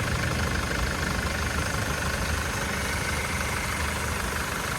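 A new vehicle's engine idles in a steady, dense drone that holds an even level for the whole stretch, close by, with no talk.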